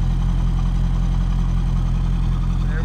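A 2000 Chevrolet Corvette C5 convertible with a 5.7L V8 and four-speed automatic idles, its exhaust giving a steady, deep, even burble at close range with no other sounds.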